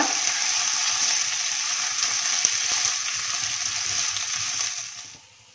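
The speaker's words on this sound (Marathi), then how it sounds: "आणि असं एकसारखं खालीवर करत आपण हे कॉर्न असं वाफवूया" Sweet corn being stirred and steamed in a pan for a sweet corn veg upma, giving a steady close sizzle with soft stirring scrapes that fades out at the end.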